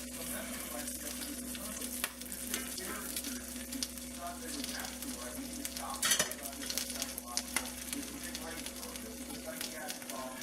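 Corned beef layered with cheese for a Reuben sandwich sizzles steadily on a hot pan, a close crackling fry over a low electrical hum, with scattered scraping sounds and a brief louder clatter.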